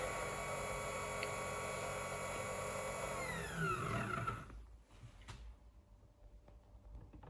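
Whisk spinning in a Nespresso hot chocolate maker while held in: a steady motor whir with a rising tonal sweep, cutting off abruptly after about four seconds, followed by faint clicks and handling noises.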